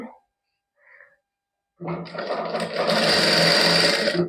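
Sewing machine stitching a straight salwar in a boutique, starting after a short faint sound and quiet gap, then running loud, close and steady, its rapid needle chatter picking up speed and holding.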